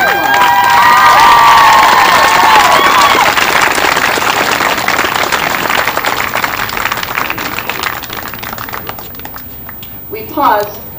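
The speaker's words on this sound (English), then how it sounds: "Join us in congratulating these seniors with a round of applause." A crowd at a high school state tournament softball game, San Juan versus South Summit, bursts into loud applause and cheering for the seniors, clapping that fades gradually over several seconds.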